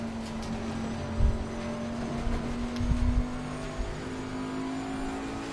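A Porsche GT3 race car in a racing video game holds a steady engine drone with a low, even whine. A few soft thumps cut in over the fairly quiet hum, and no one speaks.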